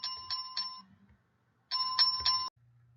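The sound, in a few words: notification bell sound effect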